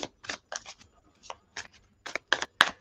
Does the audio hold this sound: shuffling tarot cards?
yes